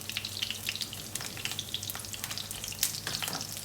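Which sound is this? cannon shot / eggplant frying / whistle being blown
eggplant frying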